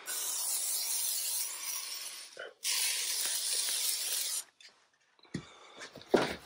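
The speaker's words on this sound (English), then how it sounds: "Again, just going to spray everything up pretty good." Two long hissing bursts from an aerosol spray can on a Chrysler Pacifica power sliding door, back to back, followed by brief clinks and rustling.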